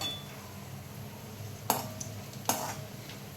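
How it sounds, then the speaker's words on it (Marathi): Dry fruits roasting in ghee for a sweet semolina sheera. A faint low sizzle runs throughout, and two sharp clinks of a spoon against the pan stand out near the end. "हे ड्रायफ्रूट भाजून घ्यायचे तुपात साजूक तुपामध्ये"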